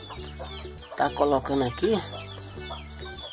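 A hen with her chicks on a small farm clucks in a rapid, close burst of several calls amid faint peeping, while a person talks quietly nearby.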